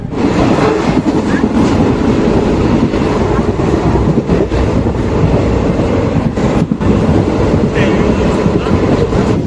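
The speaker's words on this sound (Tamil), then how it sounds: "பன்னெண்டு 35க்கு ட்ரெயின் கிளம்பிடுச்சு" A passenger train rolls steadily along the rails with a continuous loud rumble and clatter, close and constant throughout, on a line toward Courtallam in Tamil Nadu.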